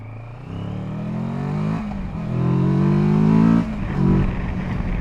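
A Kawasaki Versys 650 parallel-twin adventure motorcycle revs through its exhaust, rising and falling in several throttle blips before settling back, loud and close with no talk.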